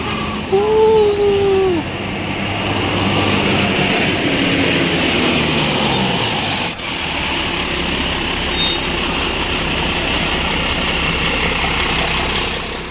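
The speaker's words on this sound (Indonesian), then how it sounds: "Nah, ini menggunakan bodi SR2X HD Prime dan mesin Hino RK8." A PO Gumarang Jaya coach with an SR2X HD Prime body and Hino RK8 engine idles steadily at close range, a constant low diesel rumble throughout with a brief whistle-like tone near the start.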